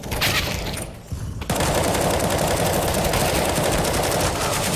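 Automatic gunfire from a CS:GO match, dense rapid bursts after a short pause, loud and close and continuing almost without break.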